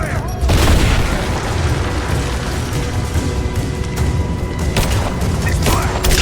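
Rapid bursts of gunfire and heavy booms fill a firefight in the video game Rise of the Tomb Raider, dense and loud throughout, with sharp crackling shots layered over a continuous low rumble and occasional shouted voices.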